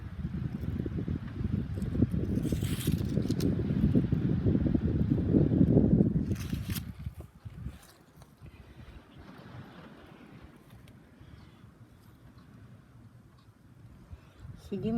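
Strong wind gusts outdoors in weather that shifts between snow and rain, roaring loudly for the first several seconds before easing to a quieter, steady rush.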